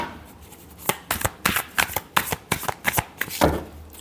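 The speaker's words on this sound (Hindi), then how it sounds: "last shuffle" Tarot cards being shuffled by hand, a quick series of about a dozen crisp riffling bursts in an even rhythm, close and alone.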